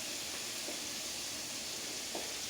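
Food sizzles in a pan as a steady, broadband hiss, with a couple of faint soft pops over the constant frying noise and no voices.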